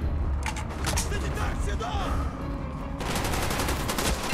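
Call of Duty Black Ops gameplay carries bursts of rapid gunfire, loud and dense, with a brief lull in the middle before another volley, while a player talks over it.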